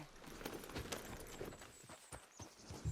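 A horse walks in the video game Red Dead Redemption 2, its hooves clip-clopping in a loose irregular rhythm, fairly quiet with no talk over it.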